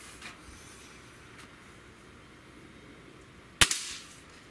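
A single sharp crack from a Gamo Swarm Magnum air rifle firing a .30 caliber pellet outdoors at a 20-yard target, one loud report after a few seconds of quiet, with a brief ringing tail.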